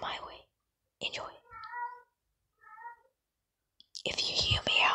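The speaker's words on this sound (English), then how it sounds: "If you hear meowing," A cat gives a couple of short, tonal meows between bursts of hushed, whispery talking close by.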